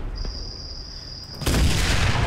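A 75 mm tank shell fires in the WWII shooter Enlisted, a sudden loud blast with a heavy rumbling tail that cuts through a thin steady tone in the seconds before it.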